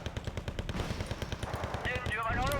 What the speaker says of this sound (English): They're just using their machine gun to kill it.